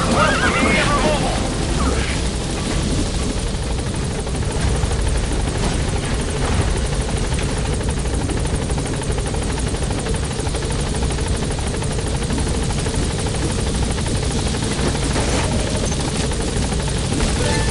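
Helicopter in Metal Gear Solid V: The Phantom Pain, a steady loud rotor and engine roar filling the whole stretch, with radio-style game dialogue heard over it.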